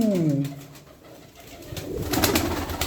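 Pigeons coo softly nearby, low rolling calls at the start and again toward the end, with quieter ambient noise between.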